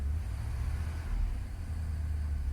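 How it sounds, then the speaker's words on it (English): A Corvette engine fitted with electronic fuel injection idles just after starting, a steady low rumble held close and even throughout, with no voices over it. "And fires right up."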